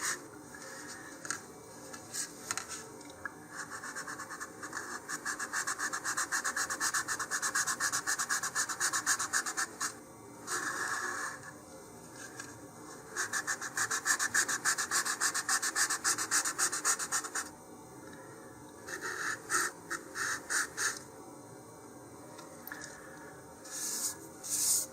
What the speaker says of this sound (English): this is just roughening up the glossy surface of the glassine on the cardboard tube here